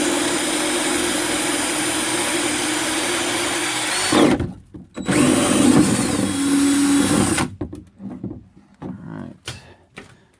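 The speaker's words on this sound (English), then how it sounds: "I'm going to drill a hole about right here" A power drill boring a 1-inch hole, likely during a custom stereo install on a Honda Pioneer 1000, a loud steady whine that cuts out, restarts, then stops in short bursts near the end.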